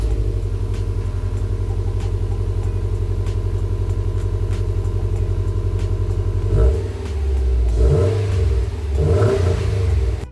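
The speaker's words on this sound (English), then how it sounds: "the stock exhaust is super quiet and you can barely hear it, and when you drive by it sounds like whooshing air" A car with a quiet stock exhaust: a steady low engine drone holds for several seconds, then gives way to a rushing, whooshing rumble that swells and fades as it passes, with no talking.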